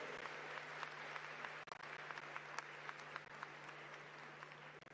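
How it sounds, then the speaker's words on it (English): Faint applause from an audience at the Africa Climate Summit, a steady spread of distant clapping under a constant low hum, lasting the whole few seconds. "Let's give them a warmer round of applause."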